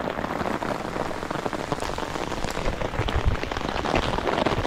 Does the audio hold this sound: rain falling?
yes